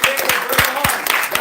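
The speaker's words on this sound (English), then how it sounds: "A big round of applause for this scene" An audience at a club meeting claps during an auction, a short burst of loud, uneven clapping mixed with voices.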